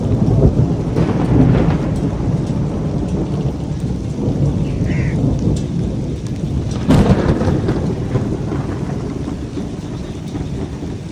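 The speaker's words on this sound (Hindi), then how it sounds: "बिजली भी चमक रही है, बादल भी गरज रहे हैं।" Heavy rain pours steadily while thunder rumbles low and rolling, with a sharper crack partway through.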